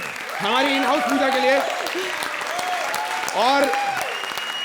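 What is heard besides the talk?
studio audience applause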